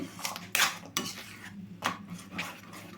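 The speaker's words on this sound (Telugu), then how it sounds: "ఇట్లా కలుపుతానే ఉండాలండి, లేకపోతే అడుగు మాడుతుంది." A spoon scrapes around a pot of thickening coconut milk sweet mixture in a series of uneven, close stirring strokes. A faint simmer sits under the metallic clinks and scrapes, with no talking.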